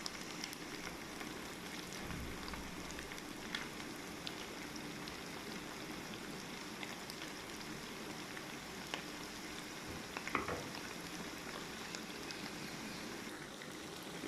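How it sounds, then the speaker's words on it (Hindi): Chicken fingers fry in hot oil over a low stove flame, giving a faint, steady sizzle and crackle that runs on alone with a few soft pops. "चिकन फिंगर फ्राई हो रहे हैं।"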